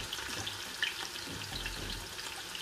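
Onions frying in a pot for Nigerian egusi soup, a soft steady sizzle with faint crackles and a low hum underneath, close and fairly quiet throughout, with no talking.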